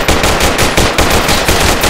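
A mounted machine gun in the Project Reality video game fires in rapid, loud bursts of evenly spaced shots that continue without a break.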